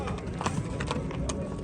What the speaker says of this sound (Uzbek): Mana otlar bozorga kelyapti.